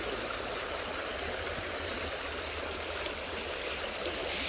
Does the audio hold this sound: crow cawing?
no